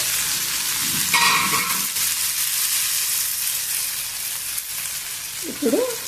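Eggplant curry with flaxseed powder simmers and sizzles steadily in a pan, a continuous frying hiss with a brief stir near the start and a short clatter toward the end, no talk.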